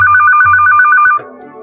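A telephone rings in a steady electronic warble, a rapid pulsed tone repeating loud and close for about a second before cutting off, leaving a quieter room murmur behind.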